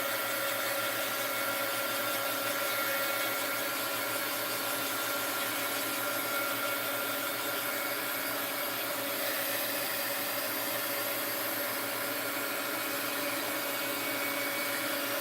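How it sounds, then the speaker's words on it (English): Steady, loud heat gun blowing air continuously and unchanging throughout, close by and alone with no talking. "let's hit it with the heat gun"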